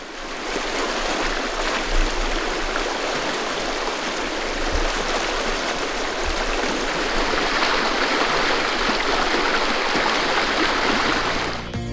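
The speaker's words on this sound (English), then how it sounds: "This is the small water channel where Lake Josephine flows into Swift Current Lake" Water rushes steadily through the small channel where Lake Josephine flows into Swift Current Lake in Glacier National Park, heard from a bridge over it as a close, continuous burbling roar with no voices.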